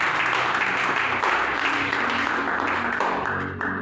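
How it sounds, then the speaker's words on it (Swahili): A church congregation gives a warm round of clapping during a service, dense and steady throughout before tapering slightly at the end. "Tumpigie makofi mazuri"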